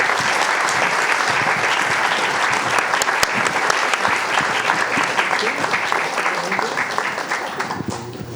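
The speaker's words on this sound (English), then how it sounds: "Please join me in giving a round of applause to our panelists." Sustained applause from a large audience for a panel at a UN International Law Commission commemoration fills the whole stretch, dense and steady, tapering slightly at the very end.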